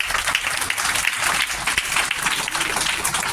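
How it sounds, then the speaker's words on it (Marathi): Pupils and guests clap for students at a Diwali gathering in a Zilla Parishad Marathi school, a continuous, fairly loud burst of crowd applause with no break. "आपण त्यांचं टाळ्या वाजून कौतुक करूया"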